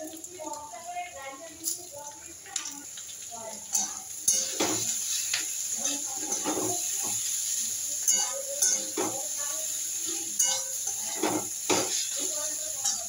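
Eggplant pieces fry in a pan with salt and turmeric, a steady sizzle under clinks of a spoon against the pan and bursts of stirring, with a voice talking over it.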